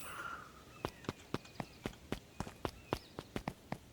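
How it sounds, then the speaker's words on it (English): Several footsteps approach in the video game Beacon Pines, about a dozen soft, evenly spaced steps in a steady walking rhythm, fairly close and alone against a quiet background. "Luka heard a group of footsteps approaching."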